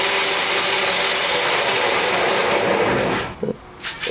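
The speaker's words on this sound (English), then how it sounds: "I'm going to be using my roughing gouge for this." Roughing gouge cutting a spinning maple box on a wood lathe, a steady loud broadband hiss and rumble of the cut that drops away near the end, leaving brief faint knocks.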